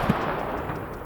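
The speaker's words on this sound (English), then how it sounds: "this is a personal mortar" A personal mortar fires in the survival game SCUM with a single short, heavy thump at the very start, followed by a low, rumbling tail that fades over the next second.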